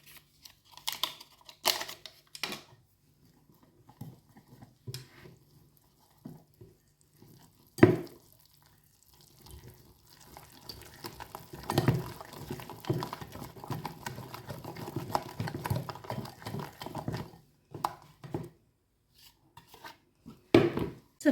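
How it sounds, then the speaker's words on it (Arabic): Flour is mixed by hand into a dough with orange juice, giving quiet, irregular scraping and tapping in a bowl. The bursts come close up, with pauses and a denser stretch of steady stirring in the middle. "دابا كنبقى نضيف الدقيق شويه بشويه كنخلط"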